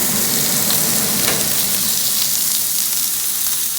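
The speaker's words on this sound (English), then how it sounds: "you can see it smoking, and I'm going to have to turn on my fan in a minute, but you want to let it sear" Prime rib sears in a smoking-hot cast iron pan, giving a loud, steady, close-up sizzle with a constant hiss throughout and no pauses.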